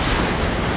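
Gas cylinders exploding one after another inside a burning truck at night in Loni, Ghaziabad, caught as a short, loud, dense booming roar with no break.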